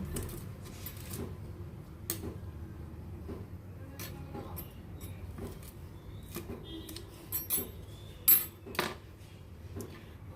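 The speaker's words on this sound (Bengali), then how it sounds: "এবার এগুলো ছোটো ছোটো করে কেটে নেব" Vegetables are chopped into small pieces with a kitchen knife on a home cooking board, a string of sharp, fairly close taps at an uneven pace, with a few louder knocks near the end.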